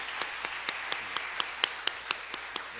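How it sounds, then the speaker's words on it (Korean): A church congregation at a Korean ordination thanksgiving service claps after honorary deacons and a deaconess are appointed, a steady dense wash of applause punctuated by a few sharper individual claps standing out close by. "크게 박수로"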